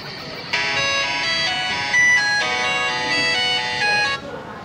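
Music with a bright melodic tone plays loud through the dual front speakers of a Nexus 6 phone, steady for a few seconds with a brief peak midway before cutting off.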